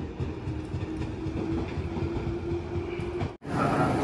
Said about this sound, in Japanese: 今ちょうど列車が発車していってるんですが